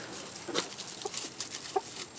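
A few soft, scattered hen clucks sound close by over a steady background hiss, with no talking.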